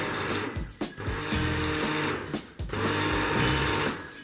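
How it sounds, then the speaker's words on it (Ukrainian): An immersion blender whirs in several loud bursts with brief pauses between pulses, dissolving cheese in a pot of soup. "Якщо сир розчинився не повністю, то можна ще занурити блендер. 2-3 натискання і сир весь розчиниться вже."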